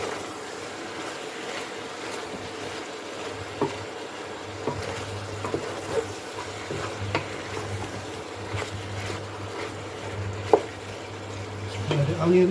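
Onions frying in a pan for a simple Polynesian island dish, a steady soft sizzle with occasional scraping stir noises and small clinks, close and continuous without talk.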